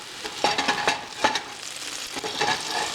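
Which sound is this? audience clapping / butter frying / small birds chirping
butter frying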